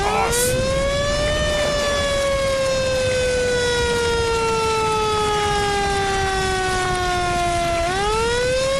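A wailing ambulance siren in a video game sounds loud and close, a single tone sliding slowly downward for several seconds before sweeping back up, with no talking over it.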